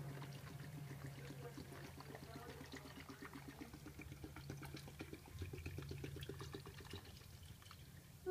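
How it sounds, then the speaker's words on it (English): Water runs steadily into a container from a tap for several seconds, a continuous, fairly quiet gurgling pour that deepens slightly toward the end. "So I'm just going to fill this bad boy up with water."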